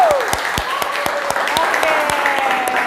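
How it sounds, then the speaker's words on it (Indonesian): Applause from a small audience at a podcast recording, scattered claps running steadily for a few seconds alongside a thin sustained tone, with a voice faintly present. "tepuk tangan dulu dong buat kita"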